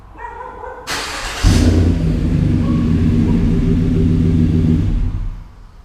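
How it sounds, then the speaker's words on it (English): A lifted 2014 Chevy Silverado Z71 pickup with a Flowmaster Super 40 series exhaust starts and settles into a deep, steady rumbling exhaust idle, loud and close, with no talking. "This is the Flowmaster Super 40 series exhaust that I put on."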